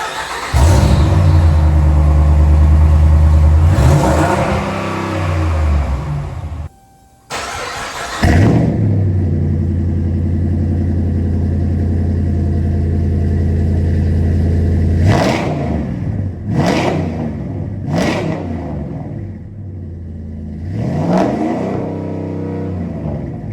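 A 2009 Dodge Ram 1500 V8 fitted with short headers and a new exhaust idles loud and close, with a brief cutoff, then rises in several sharp throttle blips and revs over a deep, steady rumble.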